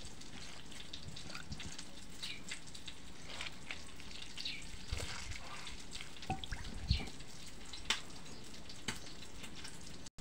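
Squeezed sliced radish being rinsed by hand in water while making a Filipino radish salad, with steady splashing and sloshing and a few sharper knocks, close and moderately loud, with no talk.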